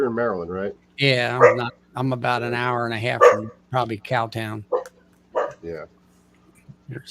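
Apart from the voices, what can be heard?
dog barking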